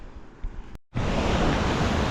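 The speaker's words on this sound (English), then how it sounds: "There's running water down here off a waterfall." Water tumbling off a waterfall at the top of the Drysdale River in the Kimberley, a broad steady rushing roar close by, cut by a brief dropout before resuming louder.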